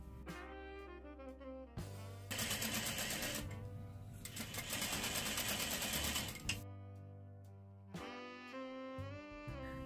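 A sewing machine stitches fabric fringes in two steady, loud runs of rapid mechanical whirring, with quieter motor hum and clicks between bursts and no talking.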